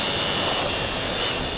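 Racing motorcycle at the chicane on the Magny-Cours track, its engine roaring loud and continuous with a high, steady whine, as if captured close on board.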